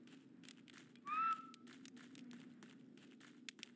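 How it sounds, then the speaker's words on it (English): A character whistles in the indie video game Soldier Of The Homeland, a single brief rising whistle at moderate distance over a low steady hum and scattered light footsteps. "He's still whistling his little head off."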